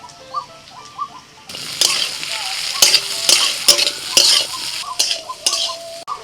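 Vegetables and half-boiled potato frying in a pan with chilli and cumin powder, a loud close sizzle broken by repeated scraping and clinking of a spatula as they are stirred, alone without talk.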